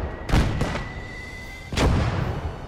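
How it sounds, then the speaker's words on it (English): Enemy mortar rounds land in a World War II hedgerow combat video game, two heavy booming impacts about a second and a half apart, each followed by a rumbling tail. "Is that friendly or enemy arty? I mean, mortar fire."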